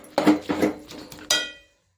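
A spoon works chopped tomatoes and onion around a cooking pot, giving a few quick clinking, scraping strokes with one bright metallic knock near the end before it goes quiet.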